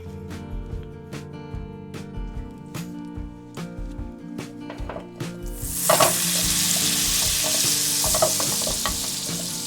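Melted butter for salmon sizzles in a pan as a utensil taps and stirs in an even rhythm, then the frying swells into a loud, steady hiss for the rest of the clip, no voices.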